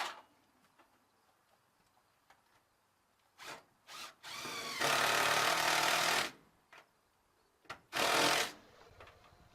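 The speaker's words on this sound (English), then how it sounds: "I'll move the hinge out of the way and drill through and install the bolts." A power drill bores through a door hinge on a Dutch door for bolts: a quiet start with faint taps, a whirring spin-up, then two loud grinding bursts of drilling, the first longer.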